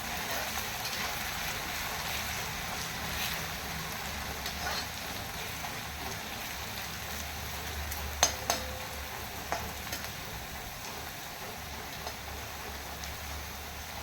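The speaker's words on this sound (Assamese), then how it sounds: "এতিয়া মই এইখিনি ৰঙচুৱা হোৱালৈকে ভাজিম" Potatoes frying in mustard oil in a wok over a high gas flame, a steady soft crackling sizzle with a few sharper spatula knocks, heard up close without speech.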